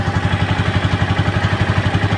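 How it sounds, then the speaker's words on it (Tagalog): A motorcycle-driven tricycle with a sidecar idles nearby, its engine throbbing in a steady, even pulse with a light mechanical clatter and no voices over it. "Papakinggan lang natin yung makina."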